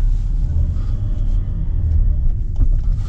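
A BMW 530i engine that can no longer accelerate idles with a steady, heavy low rumble, close and loud, with no rising revs and no voices.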